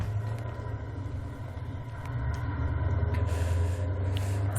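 Trucks, including a Scania, rumbling past on a road, a heavy low engine roar that swells and builds toward the end as a vehicle draws near, with faint higher hiss above.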